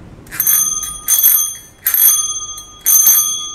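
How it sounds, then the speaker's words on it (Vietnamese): An antique bicycle bell at an antiques stall rings loud and near in four bright metallic bursts, each ring ringing on and fading before the next. "cái chuông này nó vẫn kêu tốt ạ"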